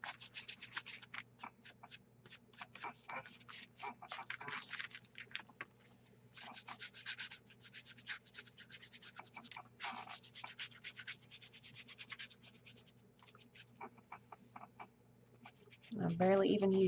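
Paintbrush bristles rub and scrape in quick bursts across paper spider legs, soft and close, with short pauses between strokes and a louder handling rustle at the end.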